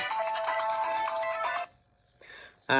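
During a call-in segment of a Lanna Buddhist dharma radio program, a telephone rings with a steady electronic ringtone for over a second and a half, then stops. A short chime and a brief burst of sound follow.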